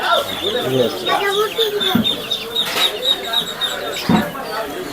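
Hens cluck at a busy poultry and bird market in Savar, Bangladesh. Their repeated clucks and short calls sound close by, and people talk throughout.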